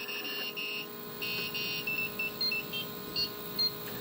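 A 3D printer plays a short melody of high electronic beeps, including a Mario tune, several quick tones in an uneven tune over a low mechanical hum.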